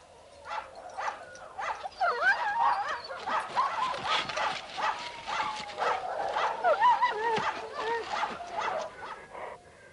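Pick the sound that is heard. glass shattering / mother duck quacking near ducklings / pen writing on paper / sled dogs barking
sled dogs barking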